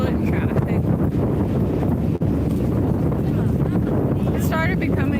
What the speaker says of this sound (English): It started becoming windy out of nowhere.